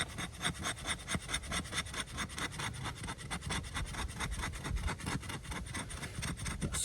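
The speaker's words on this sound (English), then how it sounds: "Sharp spine is really good for some scraping though" The sharp spine of a Work Tuff Gear Bear Claw knife scrapes wood in a steady, rapid back-and-forth rhythm of rasping strokes, close and fairly loud, with no talking.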